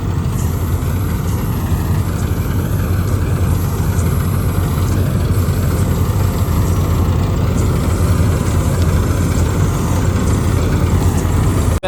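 A Mahindra Arjun tractor engine runs loud and steady nearby, a constant low rumbling idle with no pauses.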